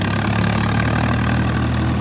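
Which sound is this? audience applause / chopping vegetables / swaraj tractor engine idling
swaraj tractor engine idling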